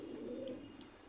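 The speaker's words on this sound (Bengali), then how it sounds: "কবুতর জোড়াটা দেখেন, পায়ে পশম রয়েছে" A pair of traditional high-flying pigeons with feathered feet gives a soft, low coo, faint and close, with no talking over it.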